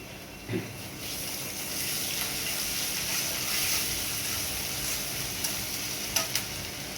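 Onion, ginger and garlic sizzle steadily in a hot pan, a close, continuous frying hiss with a few knocks from stirring, no one speaking.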